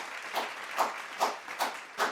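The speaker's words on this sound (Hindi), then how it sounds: "दोस्तों, तालियों की गूंज से इस कामयाबी को सेलिब्रेट करिए।" Rhythmic clapping at a virtual award celebration for National Achievement Day, honouring a prize winner: five evenly spaced bursts of claps, moderately loud, with no voices.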